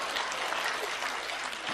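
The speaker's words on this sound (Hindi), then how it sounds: "2-4 लोग बजा रहे हैं ताली" Sparse applause from a few audience members at a Hindi kavi sammelan comedy poetry event, a steady patter of hand claps, close and fairly even, lasting under two seconds with no talk.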